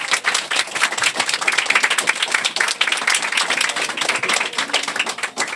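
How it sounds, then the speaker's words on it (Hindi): An audience at a study centre gathering claps to welcome a boy, dense, lively applause with many overlapping hand claps, sustained and fairly loud for several seconds. "हम चाहेंगे इसके लिए हम सभी ताली बजा के इस लड़के का स्वागत करें।"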